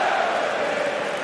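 Arena crowd roaring at a Bellator mixed martial arts event in Ireland, a sustained, loud wash of cheering and shouting with no breaks.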